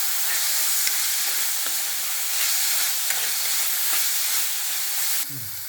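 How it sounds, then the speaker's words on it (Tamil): Grated carrot and onions sauté in a pan for cassava bonda, giving a steady close hiss and sizzle with light stirring scrapes; the sizzle drops off near the end. "இப்போ கொஞ்சம் துருவிய கேரட்டு அதையோட இதோட கொஞ்சம் நல்லா வதக்கிடுவோம்"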